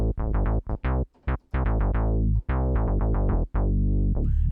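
Bass patch on the TAL-U-NO-62, a software replica of the Juno synth, playing a loud, fast run of plucky, harmonically rich bass notes in quick succession, heard alone with no voice.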